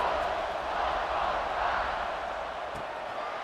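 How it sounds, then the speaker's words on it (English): A stadium crowd in a college football video game gives a steady, dense roar of cheering that holds at an even level throughout, heard from a distance without clear voices. "this crowd is feeling themselves after that last drive"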